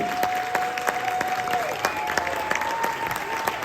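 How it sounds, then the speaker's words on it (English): An audience claps steadily for a big band soloist at a college concert, a sustained round of applause with crowd noise throughout. "Let's give Ben Patterson a big round of applause."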